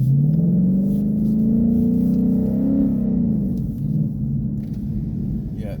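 Engine of a 2016 Ford Mustang GT on Bridgestone Blizzak WS90 winter tires, pulling up steadily on a snowy road: a loud, continuous low rumble rising in pitch as the car accelerates, then easing off.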